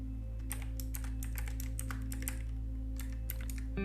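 Close keystrokes on a computer keyboard come in quick irregular bursts with a short pause, over a steady low electrical hum.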